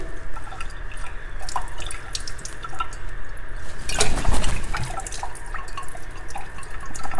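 Distilled water drips and splashes while lab glassware is rinsed, a run of close, irregular drops over a faint running-water background, with a heavier splash midway.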